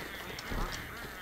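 A turkey creature in the video game Don't Starve gives a brief, faint honking gobble that swells once near the middle before fading.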